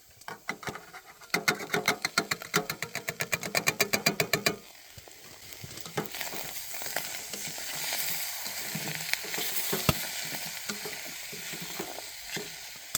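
Onions and carrots frying in a pan while cooking in a budget hot tent, a rapid rhythmic chopping or tapping at first, then a steady close sizzle with occasional stirring knocks.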